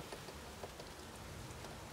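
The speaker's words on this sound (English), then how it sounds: "seeing as it's raining, I'll show you." Steady rain falls on an allotment, a constant soft hiss with faint scattered patter of drops, distant and even throughout, with no voices.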